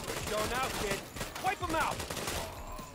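Bursts of gunfire in a GTA-style mobile video game, loud and continuous shots with overlapping effects and voices talking over the action.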